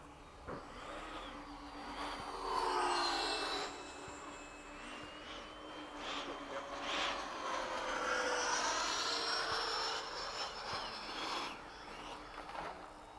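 An Eflite 80mm F/A-18D model jet coming in to land, its ducted-fan whine rising and falling as it passes at a distance, faint and without talk.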